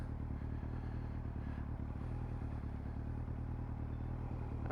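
A Yamaha R1 motorcycle on a test ride drones with a loud, steady engine note and heavy wind rush, a slight dip in pitch hinting at a downshift, continuous and close throughout.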